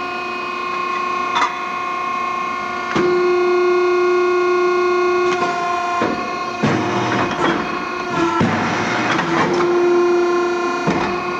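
A Model 3234 SADEH2P tube machine runs through a cycle, flaring and then clamping a tube, with a steady tonal machine hum broken by sharp mechanical clunks and bursts of pneumatic hiss, loud and close.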